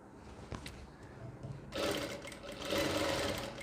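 Sewing machine stitching the hem of a kurti, starting with a few quiet clicks and a short pause, then breaking into a fast, steady whirring run that continues to the end, heard close and alone.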